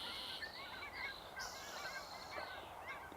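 Cackling geese, a smaller look-alike of the Canada goose, calling at a spring provincial park bay: a steady outdoor flock of repeated high, squeaky honks and yelps, moderately distant, with no talk over it.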